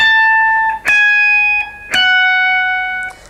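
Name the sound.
guitar notes high up the neck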